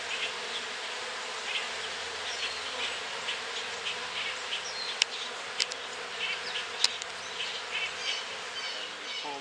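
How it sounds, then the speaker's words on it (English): Honey bees fan at the entrance of a hive box while a swarm is caught, a continuous faint buzzing drone with a few sharp clicks, no talk. "You see those bees there? They are fanning, saying, "Mama's inside.""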